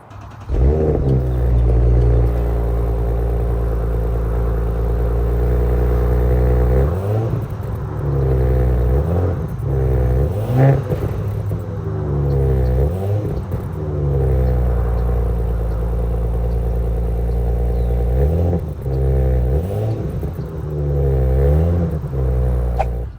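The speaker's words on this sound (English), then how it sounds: "the engine sounds amazing with the sport exhaust at the back as well" A 2023 Audi S4 engine with sport exhaust idles with a deep exhaust burble, then revs sharply several times, each blip rising and falling back to a loud, steady rumble.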